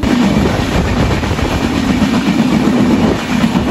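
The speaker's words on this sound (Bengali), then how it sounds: "অনেক জোরে ট্রেন যাচ্ছে," Madhumati Express running fast on rails, heard from inside an LHB coach on a rainy day: a loud, continuous rumbling roar with a dense rattle and no speech.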